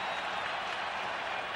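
Recorded applause sound effect played on an aviation podcast, a dense, steady wash of many hands clapping at an even level throughout the short burst, with no voices over it.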